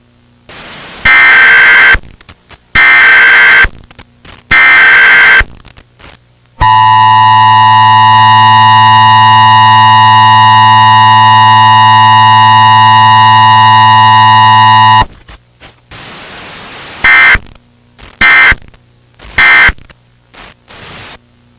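Emergency Alert System attention tones in a simulated broadcast: three loud bursts of harsh digital data chirps, a long steady two-tone alert blaring for about eight seconds, then three more data bursts, all very loud and close.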